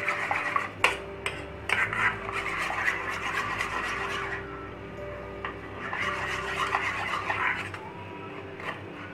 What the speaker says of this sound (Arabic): هقلب كل الخلطة دي في بعضها